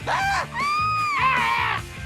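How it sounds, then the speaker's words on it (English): A group of people let out a loud, sustained scream together on cue on a slapstick game show set, one long wavering shriek with a short dip partway through, several voices layered. "Okay, everyone, let's do a Drita scream"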